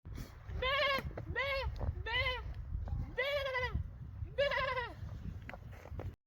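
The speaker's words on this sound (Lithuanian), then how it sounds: "Ir kaip paikžintis pasiritęs avinas smaugia" A ram on a farm bleats five times in quick succession, loud and close, each quavering call separated by short gaps, with a low rumble of background noise underneath.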